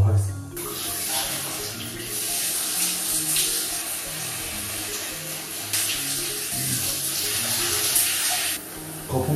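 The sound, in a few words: shower running in hotel bathroom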